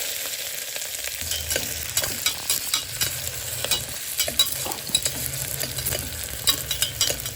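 Chopped onions and green chillies fry in a pan with whole spices for mushroom egg biryani, a close, steady sizzle broken by repeated scraping stirs of a spatula.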